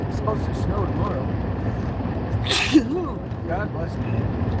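A sudden sharp sneeze bursts out over a constant rumbling engine drone, with a voice speaking around it.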